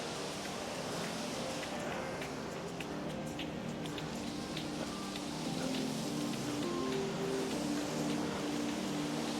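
Stream water flowing across a mountain trail crossing on the Kedarnath trek, a steady rushing wash heard at a moderate distance, continuous and slightly louder toward the end, with faint voices now and then.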